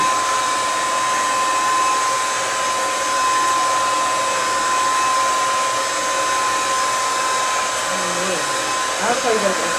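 A hood hair dryer runs steadily at a salon during a wig install, a loud continuous airy roar with a thin whine, and faint rustling near the end.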